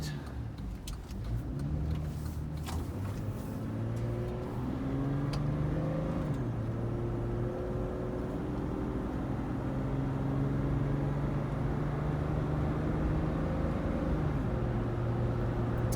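A 2004 GMC Envoy SLT 4WD pulls away and cruises down the road, its engine droning steadily through rising gears with a continuous low rumble and road noise, close and even throughout.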